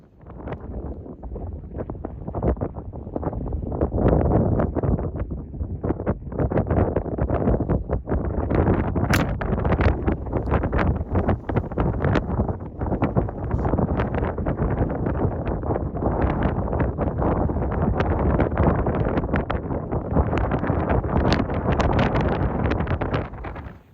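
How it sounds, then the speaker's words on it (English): Strong wind gusting across an open hillside on a spot-and-stalk mule deer bow hunt in Canada, a loud, steady roar of buffeting against the microphone that persists throughout with no talk. "But there was a lot of wind."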